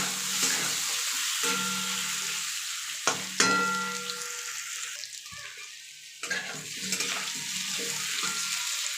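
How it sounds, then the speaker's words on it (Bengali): Potatoes frying in a pan with salt and turmeric, a steady close sizzle running throughout with occasional stirring scrapes and clinks, no talking. "দিয়ে আলুগুলো ভালো করে ভাজবো, খুব ভালো করে হালকা করেই ভাজবো"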